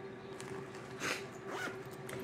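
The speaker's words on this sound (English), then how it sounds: "So you can zip it up like that" A purse zipper is pulled closed in two quick zips, each a bright ripping rasp, close to the mic over a steady low hum with no talking.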